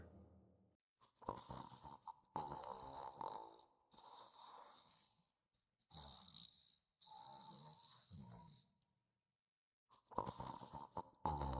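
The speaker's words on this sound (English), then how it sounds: "He begins to snore." A sleeping man snoring on a couch, a series of rough, drawn-out snores in slow rhythm separated by silent pauses, close and fairly loud.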